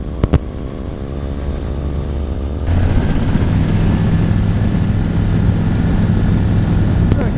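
A microlight aircraft engine drones loud and close while lining up for takeoff, its propeller note rising in power about midway and holding steady.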